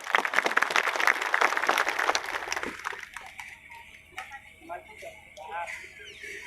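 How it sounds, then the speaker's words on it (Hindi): Welcoming applause at a tribal community gathering, a loud burst of clapping for the first few seconds that gives way to scattered claps mixed with talking voices. "जोरदार ताली से स्वागत करें।"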